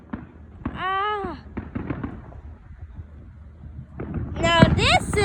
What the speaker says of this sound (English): Now this is a fireworks show.